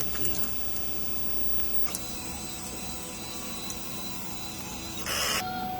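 A DTF printer runs a head clean cycle, a continuous whirring motor hum with faint clicks, rising into a louder pumping burst near the end.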